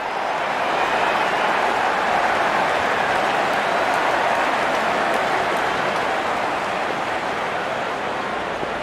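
Steady, dense crowd roar fills a cricket stadium in the Real Cricket video game as the openers walk out, a continuous loud wash of cheering with no breaks.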